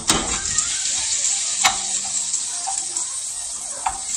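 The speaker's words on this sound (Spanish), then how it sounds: "Estoy cocinando las salchichas y la cebollita." Sausages and chopped onion fry in a pan with a bright, continuous hiss of sizzling oil, close and steady, broken by a few clinks and stirring sounds.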